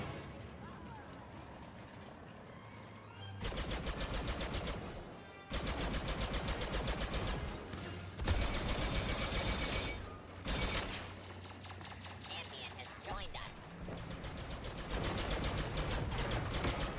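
Heavy battle fire in Star Wars Battlefront 2 as a transport attacks a palace, with loud sustained bursts of rapid blaster fire and explosions broken by short pauses, dense game combat noise throughout.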